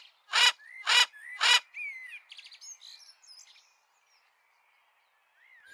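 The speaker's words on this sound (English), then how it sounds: "And minor or starling" Myna or starling calling: three loud, harsh squawks in quick succession, then a run of whistles, clicks and chattering notes that trails off into near silence, with one faint whistle at the end.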